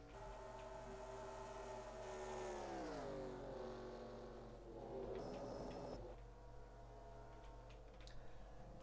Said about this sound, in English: From this camera, you can hear the whine of Hammond's engine